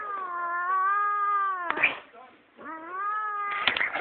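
A cat caterwauls in long, loud, wavering yowls, two drawn-out cries broken by harsher scratchy bursts and a short dip in between.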